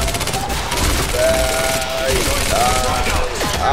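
Rapid automatic gunfire from the video game Quantum Break crackles loud and continuous throughout, a dense close barrage with game effects layered over it.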